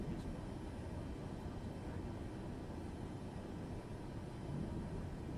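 A steady, broad airplane engine drone as the aircraft taxis after landing in a flight simulator game, continuous and moderately loud with no talk.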